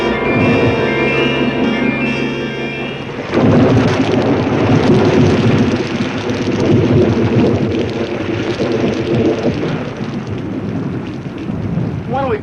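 A sitcom storm on a dark night outside a grocery store: a few seconds of music give way to a loud burst of rumbling thunder, followed by steady rain that lingers until the end.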